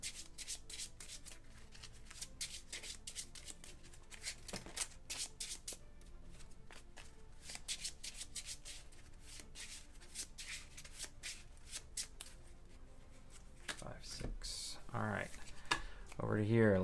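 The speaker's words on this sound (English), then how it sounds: "Shuffle." Playing cards riffled and shuffled during a Marvel Legendary deck-building game, a long run of crisp, rapid ruffling and snapping bursts, close and fairly steady, with a voice speaking near the end.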